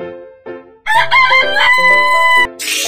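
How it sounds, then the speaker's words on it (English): A rooster crows once, loud and close, in a long drawn-out cock-a-doodle-doo, with a few shorter clucks just before it and a brief noisy burst at the end. "Rooster."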